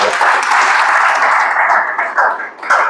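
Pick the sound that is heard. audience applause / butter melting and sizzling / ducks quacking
audience applause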